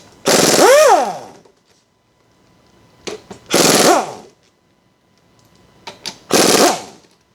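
Impact gun removing differential bolts on a 1986 Porsche 944 Turbo, three loud close bursts of hammering rattle spaced a few seconds apart, each with a rising then falling whine and quiet gaps between.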